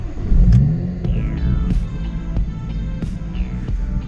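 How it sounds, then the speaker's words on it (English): A BMW E30 engine cranks and turns over, then idles with uneven revving and a few clicks and whirs close by. "Wait 5 seconds and then start the car."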